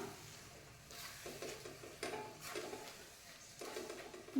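Masala simmering in a pan with cauliflower and potato gravy for a South Indian curry, giving a soft steady sizzle and bubbling with a few louder stirring scrapes spaced through, close and moderately quiet.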